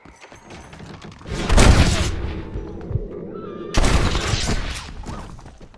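Two loud gunshots in Red Dead Redemption, each a sharp close blast with a rolling decaying tail, spaced about two seconds apart over quiet outdoor ambience.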